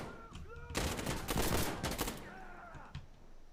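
A dense burst of rapid automatic gunfire in the game Insurgency: Sandstorm, loud and close, rattling for over a second amid scattered single shots and echoes, with a voice faintly present before and after.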